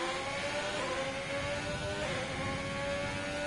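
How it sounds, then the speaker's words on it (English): Alfa Romeo Sauber Formula 1 car engine in the F1 2020 racing game at the Singapore Grand Prix, a steady high-revving drone with echoing reverberation, holding constant pitch without pause or speech. "You can hear the echoing of the Alfa Romeo Sauber."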